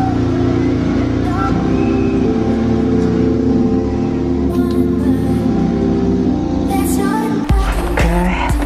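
A 2019 Toyota Supra in sport mode gives off a loud, steady engine drone with rich low harmonics throughout, rising and shifting near the end as the revs change sharply, with a voice speaking over the top.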